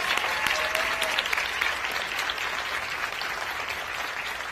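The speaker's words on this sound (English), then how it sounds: "If we could applaud him, please." Audience applause at a live public event with the Vice President, a steady burst of clapping from a crowd filling the room, fairly even and sustained throughout.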